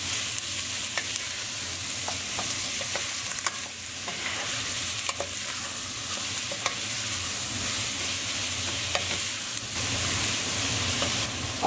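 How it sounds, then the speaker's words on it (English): Onion, capsicum and jalapeno cook lightly on medium heat, giving a steady soft sizzle with occasional clicks and scrapes of stirring, close by and continuous with no talking. "Now we're just very lightly cooking this on a medium heat."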